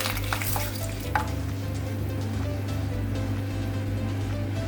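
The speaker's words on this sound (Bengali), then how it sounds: "শুকনো লঙ্কা দিয়ে দিলাম, তেজপাতা দিয়ে দিলাম" Dried red chillies and bay leaves sizzling in hot frying oil, giving a steady close hiss with a few small pops and crackles near the start.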